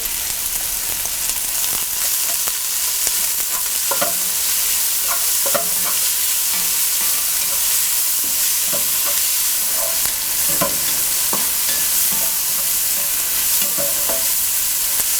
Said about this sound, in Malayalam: 1 തണ്ട് കറിവേപ്പില, ആവശ്യത്തിന് ഉപ്പ് എന്നിവയിട്ട് വഴറ്റുക.